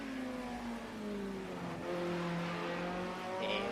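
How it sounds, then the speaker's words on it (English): A Group A touring car engine in a racing video game whines with a high, squealing turbo tone that glides up and down as it revs, steady and fairly close. "you hear a very noisy, squealy turbo noise"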